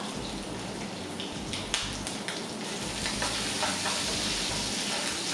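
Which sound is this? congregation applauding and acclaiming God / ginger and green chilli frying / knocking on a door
ginger and green chilli frying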